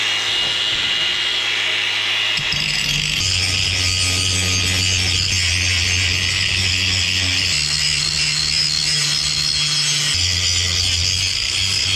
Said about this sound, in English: I'm keeping the dust out and start grinding the outside here